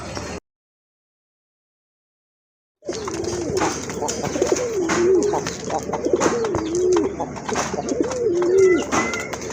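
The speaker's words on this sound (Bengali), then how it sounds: "কি কবুতর? মাদ্রাজি কবুতর, মাদ্রাজি গোল্লা কবুতর" A pair of large, deep red Madrazi golla pigeons coo in repeated soft, rolling calls close by, over low background noise after a brief silence.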